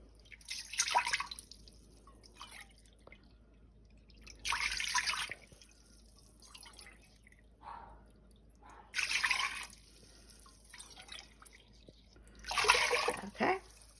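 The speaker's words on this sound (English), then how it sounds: "you're going to put 4 cups of water" Water is poured into a cooking pot for rice in four separate splashing bursts with quiet gaps between them, close and moderately loud, with no voices.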